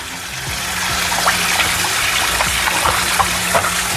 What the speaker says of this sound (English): just wash them with some vinegar and lime